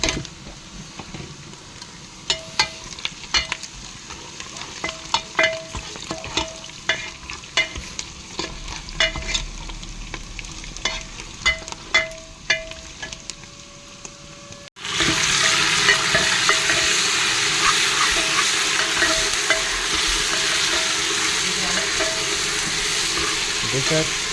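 Onions frying in oil with bay leaf, cardamom and spices for chicken biryani, a steady sizzle with repeated stirring scrapes that grows into a louder, denser hiss partway through.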